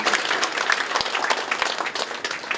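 A congregation applauds at a thanksgiving service opening a memorial hall for a Korean martyr pastor, producing a dense, lively burst of many hands clapping throughout, fairly loud, with no speech over it.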